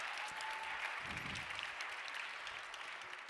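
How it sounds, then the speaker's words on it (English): Faint, steady applause from an audience at an EU youth conference, an even wash of clapping heard from a distance. "One more round of applause."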